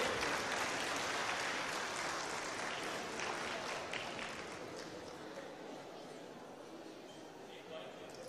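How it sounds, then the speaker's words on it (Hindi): A large audience at a youth gathering in Lahore applauds steadily, a dense wash of clapping that slowly fades a little toward the end. "मोटिवेशनल स्पीकर साहिल अदीम को, कि वे आए और इजहार ख्याल करें आपकी भरपूर तालियों की गूंज में।"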